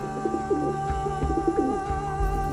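Pigeons coo inside a brick and clay Iranian pigeon tower built to house thousands of birds, repeated soft throaty coos overlapping against a constant hum, with no talking.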